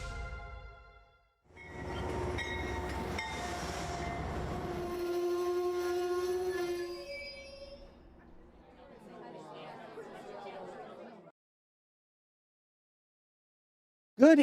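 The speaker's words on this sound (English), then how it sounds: "You may or may not hear a train going on behind me." A model train runs along its track with a rolling rumble and clatter, a thin squealing tone rising midway, then lighter rattling that fades to silence.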